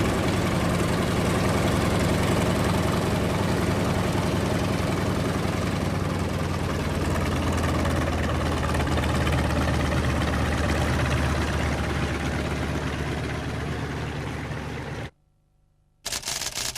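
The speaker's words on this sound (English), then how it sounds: "The unmistakable sound of the tracker's 2 radial engines will always be nostalgically remembered" The twin radial engines of a Grumman Tracker, the Stoof, flown by the Royal Australian Navy Fleet Air Arm, drone loud and steady for a long stretch, then drop out abruptly before resuming briefly.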